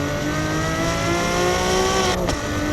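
A Ferrari 599 GTO screams at high revs on the Magny-Cours Formula 1 circuit, its loud, dense engine wail rising steadily in pitch before cutting sharply near the end as the shift or lift comes.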